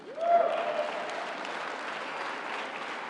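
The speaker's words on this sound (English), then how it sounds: "You can clap for that" A large audience at a presidential speech on clean energy bursts into sustained applause, a dense, even wash of clapping that swells quickly and holds steady, with a brief cheer at the start.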